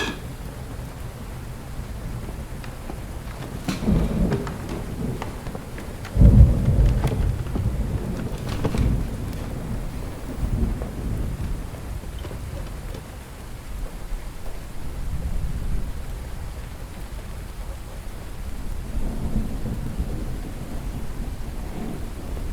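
Heavy rain pours steadily through a storm while thunder rumbles repeatedly, with one close, loud crack and several deeper, rolling peals spread over the stretch.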